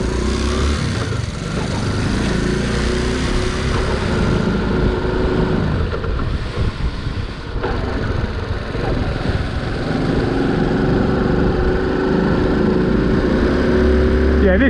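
Honda C90 motorcycle engine running steadily while riding along a country road, a continuous close drone with wind noise that holds level throughout, the rider talking over it at times.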